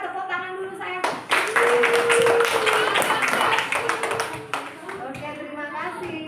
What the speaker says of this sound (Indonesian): kasihlah tepuk tangan dulu sayang.